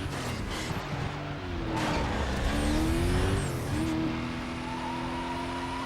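A V12-powered car racing in Need for Speed: Most Wanted 2005 on PS2, a loud engine revving and shifting through rising and falling pitch, with a tire screech midway.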